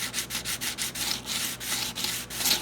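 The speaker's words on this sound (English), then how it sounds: "I use 120 grit and just gently roll over the top of those rails, like so." Rhythmic back-and-forth rubbing of 120 grit sandpaper over model train track rails, a close, gritty scratching repeated in quick even strokes, with no talking.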